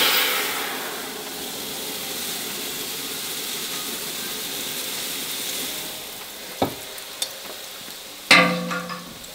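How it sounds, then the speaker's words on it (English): Liquid nitrogen poured over a sample in the bowl of a knife mill, a steady close hiss and boiling sizzle that fades, followed by a few sharp clinks and knocks against the bowl. "And float it again with more liquid nitrogen"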